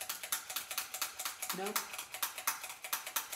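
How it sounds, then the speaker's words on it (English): An office stapler pressed again and again gives a quick run of crisp mechanical clicks, close and fairly quiet, while a voice briefly speaks. "It's a stapler."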